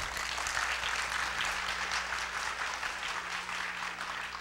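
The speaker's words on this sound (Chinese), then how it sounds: "我们给他一个掌声好不好？" A university lecture hall audience applauds a guest CEO, a continuous, moderately distant roar of many clapping hands that holds steady without pause.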